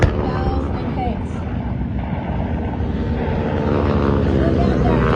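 Propeller aircraft engines, Japanese Zeros, Vals and Kates in a Pearl Harbor attack scene, drone as a steady loud rumble, with a low broad roar and faint wind noise running throughout.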